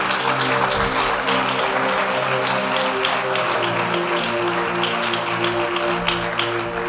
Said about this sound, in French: On acclame pour le Saint-Esprit.